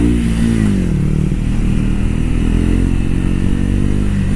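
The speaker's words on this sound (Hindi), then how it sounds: "जब आप ऐसे ये थ्रोटल देते हो ना तो ये वाला साउंड थोड़ा सा और ज़्यादा बेटर जो है वो हो सकता था" Triumph Thruxton 400 motorcycle engine revving loudly and steadily under throttle, a dense continuous roar with shifting harmonic pitch as the revs rise and settle, close and alone with no talk.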